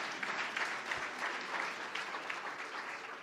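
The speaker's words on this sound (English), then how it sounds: "go ahead, you can clap because that's the truth." Sustained applause from a hotel industry conference audience, steady and dense throughout, with no voices standing out.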